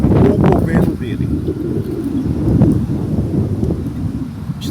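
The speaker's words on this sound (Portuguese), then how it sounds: "Está ventando um pouco aqui" Outdoor wind buffets the microphone in a low, constant rumble, with brief gusty swells throughout and no other clear sound.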